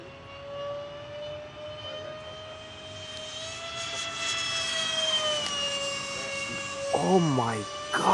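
A Su-34 jet performs thrust-vectoring manoeuvres at an air display, its engines producing a sustained rising and falling whine and roar that swells as it passes, with spectators talking over it.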